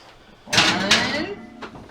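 Bread pans of vanilla white bread slid into an oven preheated to 350 degrees, a close metallic scrape and clatter rising to two louder bursts before easing into a fainter rattle.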